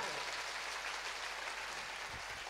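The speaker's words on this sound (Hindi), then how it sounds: "जी के लिए एक बार जोरदार ताली मारें।" Dense, steady applause from the audience at a Catholic youth meet, a continuous crowd of clapping hands heard at a moderate distance for a couple of seconds.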